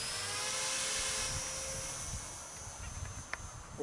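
An RC Spitfire model plane runs its engine at full throttle during a first flight, giving a high, steady whine that passes overhead and fades, with wind noise and faint handling sounds nearby.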